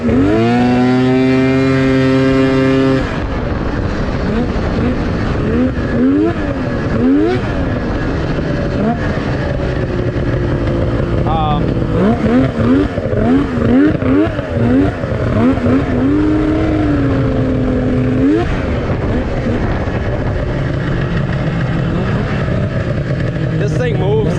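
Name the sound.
Yamaha SX 700 triple engine running with choke on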